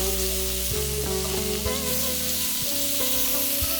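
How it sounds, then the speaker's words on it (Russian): Radish being lightly fried in a pan for a Korean cold soup, a loud steady sizzle with stirring, close and continuous. "я, пожалуй, что редиску слегка обжарю"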